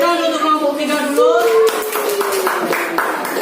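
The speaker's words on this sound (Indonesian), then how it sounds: "Tepuk tangan untuk kelompok 3 dulu." Applause from a classroom group greeting the third student group after its presentation, a burst of scattered hand claps under loud overlapping voices and calls.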